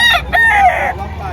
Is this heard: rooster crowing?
yes